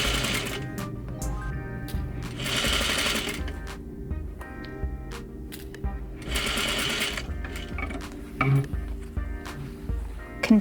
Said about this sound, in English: Sew your front leg piece to your pocket stay along the center front edge using a 1/4 inch or 6mm seam allowance.